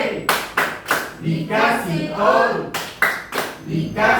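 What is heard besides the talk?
students clapping a 'tepuk wow' clap pattern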